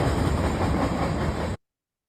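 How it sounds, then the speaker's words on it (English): A freight train rolls through a residential backyard, a loud, steady broadband rumble with rail clatter that holds for about a second and a half and then cuts off abruptly. "This is the train that goes through my backyard and what it sounds like"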